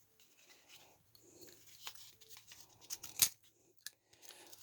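A few short, sharp scissor snips cut through a wick for a homemade fire starter or cooking fuel tablet, with one louder crisp cut standing out among quieter rustling handling sounds, close up and with no talking.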